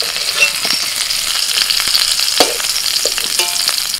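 Yellow garden cauliflower fries in a pan, giving a continuous close sizzle with small crackles and occasional scraping stir clicks, and no voices.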